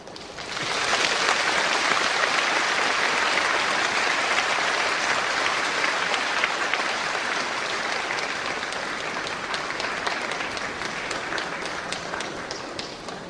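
Sustained applause from a congregation at an Easter dawn joint worship service in Incheon, a dense steady wash of many hands clapping that starts abruptly and fades slightly toward the end, with no voices over it.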